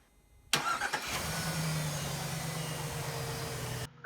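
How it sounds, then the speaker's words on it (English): A Chevy Trailblazer with a 5.3L V8 cranks briefly and fires straight up, settling into a steady, close idle, with a loud thump right at the end. "Let's hop inside the vehicle, fire it up, and see if everything works good."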